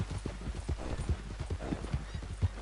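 Horse hooves clip-clop in a steady, quick rhythm in the video game Red Dead Redemption 2, close and clear, with no talking.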